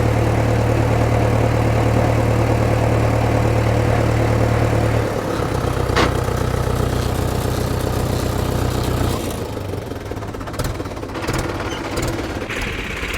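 A tractor fitted with a 7-foot rotavator runs steadily close by, a continuous low engine drone with a constant hum that drops in pitch and level partway through, no talk.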